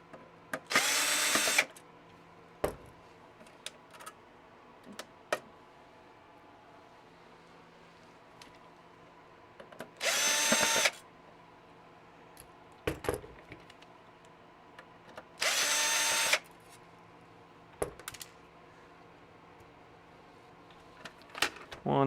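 Power drill backing screws out of an original Xbox, three separate whirring bursts about a second long each, spaced several seconds apart, with quieter clicks, handling knocks and rattles in between.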